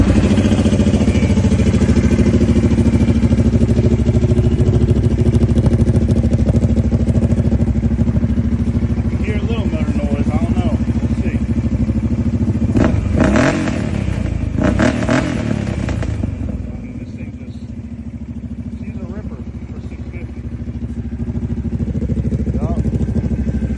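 A carbureted Kawasaki Brute Force ATV engine runs close and loud, with a steady idle and some revving, before the engine note drops lower and quieter near the end.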